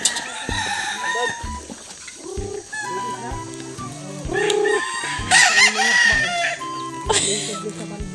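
A rooster crows several times amid clucking chickens nearby, loud and close, with people talking in the background.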